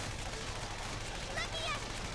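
Rapid gunfire from the Persona 5 Strikers video game rattles through a dense, busy battle mix, with game voices and effects layered over it for about two seconds.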